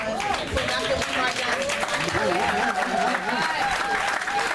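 Audience at a bookstore lecture in Newark, New Jersey breaks into applause welcoming Dr. Umar Johnson, dense steady clapping mixed with cheers and crowd voices, loud and continuous throughout.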